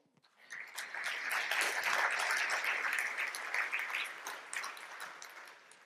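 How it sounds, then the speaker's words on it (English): Conference audience at Q2B Tokyo applauding the event's supporting groups, clapping that swells in quickly from near silence, holds steady for several seconds, then thins slightly toward the end. "I'd really like to give all of these groups a round of applause"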